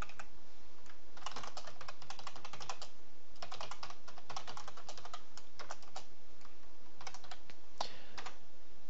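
Fast, uneven bursts of computer keyboard typing, close and crisp, with brief pauses between runs of keystrokes and no talking.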